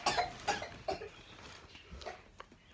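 A child coughs several times in short, close bursts near the start. Fainter coughs or throat sounds follow in a quiet room.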